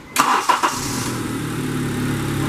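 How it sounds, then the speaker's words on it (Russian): A 2010 Honda CR-V's 2.4-litre petrol engine cranks with a few quick starter pulses, catches within about half a second and settles into a close, steady idle hum. "Запуск двигателя."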